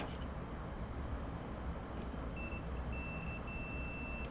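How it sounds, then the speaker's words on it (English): A high, thin multimeter continuity beep sounds in a few short bursts while testing a water-damaged MacBook, then holds steady, over a constant background rumble. "We have our little multimeter, and we should hear a beep."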